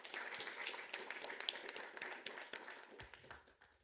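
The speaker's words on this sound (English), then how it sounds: "you deserve a great applause" Applause from an audience at an energy and utilities cyber security forum, a faint, fairly distant patter of many hands clapping that gradually thins out and fades toward the end.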